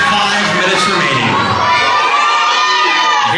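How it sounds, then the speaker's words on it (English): A loud, close crowd at a live pro wrestling event cheers and shouts continuously, a dense wall of excited voices. "Everybody's still clapping."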